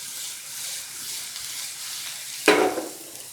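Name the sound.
oil and grated garlic sizzling in a pan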